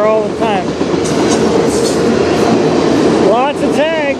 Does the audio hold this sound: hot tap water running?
no